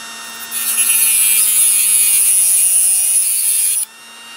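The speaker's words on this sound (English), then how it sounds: "And I'm going to take this Dremel cutoff wheel, which is the thin one, not the thick one." A thin Dremel cutoff wheel cuts during a repair on a Hammarlund receiver. It gives a loud, steady, high-pitched grinding whine over a humming motor for about three seconds and then stops abruptly, leaving the tool running lightly.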